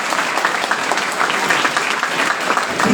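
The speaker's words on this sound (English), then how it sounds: "So give yourself a nice round of applause." Students at a PU college give a round of applause, a steady wash of many hands clapping together at even volume, filling the room with no voice over it.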